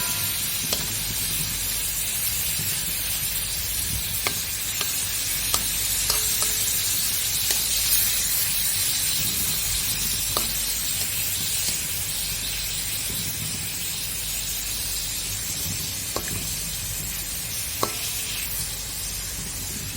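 Shrimps or prawns sizzling and frying in a pan for a creamy sambal tempoyak fettuccine, a constant close hiss with occasional small clicks and pops of stirring.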